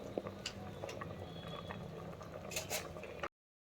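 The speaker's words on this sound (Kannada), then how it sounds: "ಸೊ ಇವಾಗ ಇದು ಕುದೀತಾ ಇದೆ." Water coming to a boil in an open pressure cooker for ghee rice, a steady bubbling simmer with soft liquid pops, close and continuous for about three seconds before cutting to silence.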